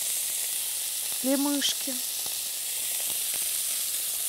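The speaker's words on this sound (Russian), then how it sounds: "Одна твоя на сковородке лежит, жарится, да." Shrimp frying in a pan gives off a steady, close sizzle that runs the whole time, with a brief spoken phrase over it partway through.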